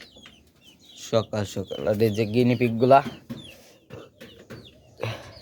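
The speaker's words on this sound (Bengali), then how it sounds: "এই দেখেন সকাল সকাল এই যে মুরগিগুলো" Chickens cluck in the morning in a series of close, rhythmic calls, with a person talking before and after.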